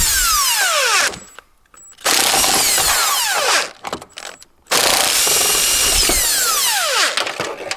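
A power tool undoes a 10mm bolt on a Toyota Corolla front door, giving three loud bursts of whirring with rising and falling pitch, separated by short pauses, close up with no talk.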